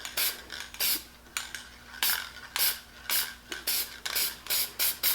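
Repeated short bursts of hissing from a Rust-Oleum spray paint can, about a dozen in quick uneven succession, close and fairly loud, with no voices.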